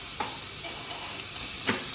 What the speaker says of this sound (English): Oil is hot and it's sizzling.